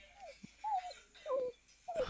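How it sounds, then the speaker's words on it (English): A dog named Indiana lets out several short, high whimpering squeaks, one after another with brief quiet gaps, close by and fairly soft. "I hear a dog panting."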